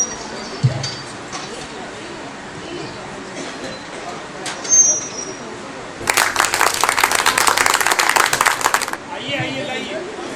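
An audience at a Bundeli theatre event in a hall in Jhansi breaks into a burst of dense applause lasting about three seconds, rising out of quiet murmuring background and then fading off.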